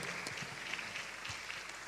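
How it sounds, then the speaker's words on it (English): Panelists at an opening ceremony receive applause: dense, moderately loud clapping that fills the whole short stretch without a clear start or finish. "Round of applause for them."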